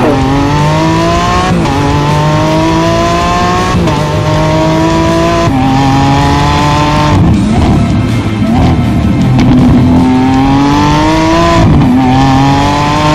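A 2017 Lamborghini Aventador S engine revs loudly and repeatedly, pitch climbing through each run and dropping back between bursts, close and continuous with no talk.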